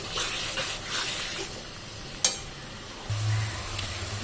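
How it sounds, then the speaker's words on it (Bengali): Spice paste for chicken kosha is stir-fried in a pan, with a soft, continuous sizzle broken by scraping strokes of a spatula and one sharp clack midway. It stays fairly quiet and close, with no voices. "চলুন ভালো করে মশলাটাকে কষে নিয়ে একবার।"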